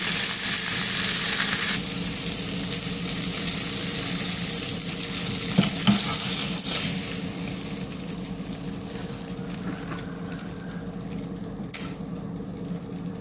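Sankara fish frying in a pan on a gas stove, a loud, continuous crackling sizzle close by that runs without a break, with a couple of faint clicks.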